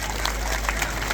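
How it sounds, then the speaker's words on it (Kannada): A loud, dense wash of audience applause at a public speaking event fills the whole short moment, steady and close with scattered sharper claps. "ಜೋರಾದ ಚಪ್ಪಾಳೆ."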